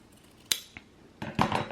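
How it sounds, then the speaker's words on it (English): Sewing scissors trim the pressed seam allowance on a shirt collar, giving a couple of sharp blade snips followed by a quick cluster of cuts and clicks. The sounds are close and quiet, with no speech. "So I'm just going to trim mine down now since I already have it pressed."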